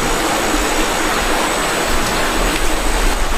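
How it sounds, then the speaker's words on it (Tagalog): Strong water rushes with a dense, loud, unbroken roar that holds steady throughout with no voices over it. "Napakalakas ng tubig."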